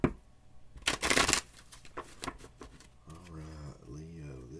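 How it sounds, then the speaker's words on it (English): Oracle cards are shuffled in quick riffling bursts close by, loudest near the start, followed by a voice speaking softly. "One more shuffle."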